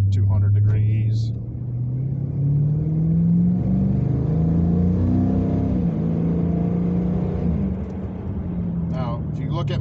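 A muscle car engine, not yet at operating temperature, pulls lightly at part throttle, its deep exhaust rumble rising steadily in pitch, loud and close, with a voice talking over it at the start and end.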